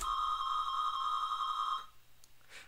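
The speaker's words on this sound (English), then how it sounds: "it's gonna sound like an old dial-up modem because that's basically what it is" Minimodem plays an audio message that sounds like an old dial-up modem, a steady, fairly loud electronic tone with bright harmonics held for almost two seconds, then stopping abruptly into faint hiss.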